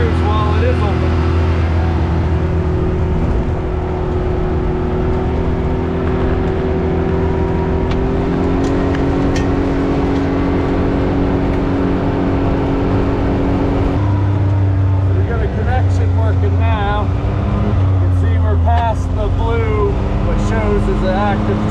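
An ATV cruising along a trail in Nova Scotia, its engine droning steadily and close with shifts in pitch as it changes speed, under a rider's talk.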